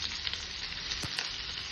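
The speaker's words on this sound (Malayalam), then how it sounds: "ഇതിലേക്ക് കുറച്ച് കടുക് ഇട്ട് കൊടുക്കാം." Mustard seeds sizzling in a hot frying pan, a steady dense crackle close by with a couple of sharp pops, quiet and without talk.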